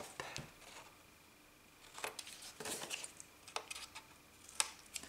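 Scissors snip the corners of folded paper for a handmade folded-and-glued album, several short crisp cuts spaced irregularly, close and fairly quiet.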